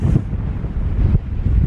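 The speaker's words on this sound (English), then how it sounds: "It is windy though" Strong wind buffeting the microphone at Millsite Reservoir, a steady low roaring rumble with gusty surges that fills the short stretch on its own.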